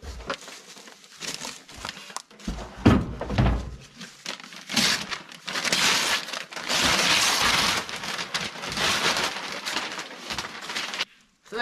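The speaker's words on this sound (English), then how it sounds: "Now let's get it unboxed and see what it looks like." A low smoke fire pit is unboxed with close crinkling, rustling and scraping of cardboard and packing material in irregular bursts, some loud, with brief quiet gaps.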